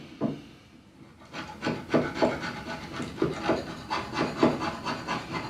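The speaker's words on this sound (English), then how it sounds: "I'm going to just give this a little clean because there's a lot of paint residue on it." Paint residue scrubbed off a varnish tin, heard as a steady run of rhythmic rubbing strokes, close and moderately loud, repeating roughly twice a second.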